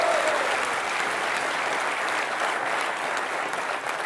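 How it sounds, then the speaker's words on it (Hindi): Loud, steady applause from a comedy show audience, dense clapping that holds evenly and fades only slightly at the very end. "जोरदार तालियां"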